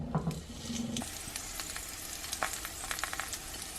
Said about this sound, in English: Let these sizzle for about 3 minutes.